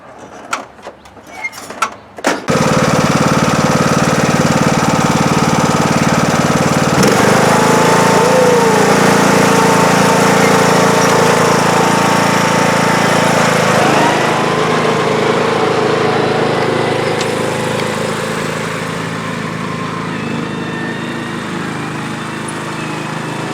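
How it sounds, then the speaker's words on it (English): John Deere D105 lawn tractor engine after a spring start-up, running steadily and loud up close for about twenty seconds with a shift in pitch partway and a slight fade toward the end, after a few brief clunks. "Another great year of starting up my John Deere."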